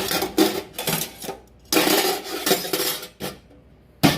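Metal tongs handled while setting up a hot dog cart, producing bursts of bright clattering and clinking metal at close range with short pauses between.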